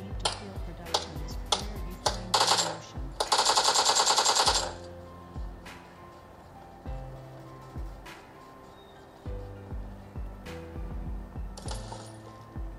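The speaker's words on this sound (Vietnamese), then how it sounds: "Mình có AK, mình vẫn ưu tiên bắn AK hơn." AK rifle fire in a mobile shooter game played on a Xiaomi Mi 11 Pro, with sharp single shots and a dense rapid burst early on, followed by scattered clicks and sparse shots under background game sounds.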